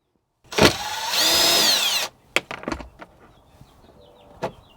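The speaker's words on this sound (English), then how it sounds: "we're going to start by taking a Phillips screwdriver and taking off this panel" A Phillips screwdriver works on an interior panel of a 2003–2009 fourth-generation Toyota 4Runner, giving a whirring burst of about a second followed by several short clicks and knocks close by.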